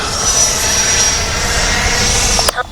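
A 90mm Freewing Eurofighter Typhoon RC jet makes a gear pass, its electric ducted fan giving a steady, loud whine with a high tone throughout, ending in a brief sharp noise near the end.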